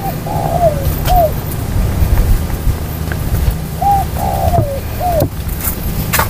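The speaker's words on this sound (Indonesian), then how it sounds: "Banyak burung perkutut di sini" Zebra doves (perkutut) cooing in a cool forest near an abandoned house, two pairs of short rolling coos separated by a pause, moderately close over steady woodland ambience and low rumble.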